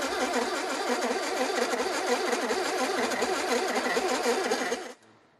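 A scrap-built racing sofa's engine fires up and runs steadily at a loud, buzzing pitch close by for nearly five seconds, then cuts off abruptly.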